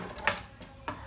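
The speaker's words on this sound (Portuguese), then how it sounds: "eu vou passar uns 3, 4 pontinhos em cima da minha costura" A sewing machine runs three or four quick stitches over a seam while finishing a baby cloth diaper with a mitred corner, a close mechanical ticking and clatter in short irregular bursts.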